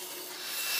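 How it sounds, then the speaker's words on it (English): A homemade lathe-mounted disc sander grinds against the round edge of a wooden board, a steady hissing rub that grows slightly louder over a brief moment. "clean up the edges of the round edges with a disc sander"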